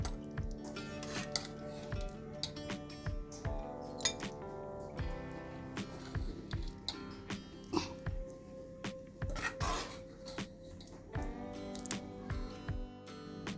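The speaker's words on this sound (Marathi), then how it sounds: "आता आपली ही माकुल मच्छी तयार झाली, बाउलमध्ये काढून घेऊया।" Spoon and metal pan clinks while squid masala is scooped into a bowl, a steady series of light scrapes and taps close by, with no talking.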